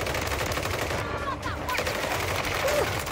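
Rapid gunfire in the video game Warzone 3 rattles in dense, continuous bursts, loud and up close, with faint voices underneath.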